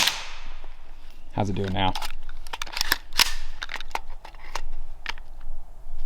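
A suppressed rifle fires rounds from a 16-round magazine, giving a rapid string of sharp cracks followed by scattered single shots and clanks at close range, with someone talking briefly over them.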